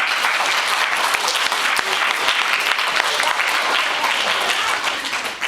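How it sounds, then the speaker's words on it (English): A school assembly crowd, mostly students, claps loudly and continuously for a group of performers, a full, steady burst of many hands that tapers slightly at the end. "Give them a round of applause."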